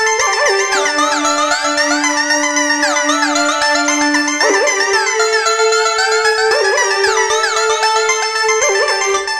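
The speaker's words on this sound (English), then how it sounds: "that's what gets you that kind of drifting out of tune effect at the end of the song" Synthesizer lines slide between pitches with heavy portamento glide, notes drifting out of tune as they bend, in a sustained, bright layered keyboard passage from a song re-creation, loud and continuous without voices.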